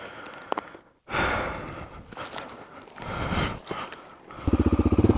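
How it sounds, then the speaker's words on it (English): A motorcycle engine starts cold without warm-up and idles unevenly with bursts of revving, ending in a loud, rapid chugging rhythm close by. "Forgot to warm up my bike today."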